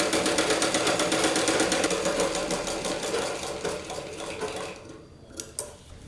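A sewing machine runs a rapid, rhythmic double-stitch seam on a blouse, loud and close, then slows and stops, followed by a couple of faint clicks and taps.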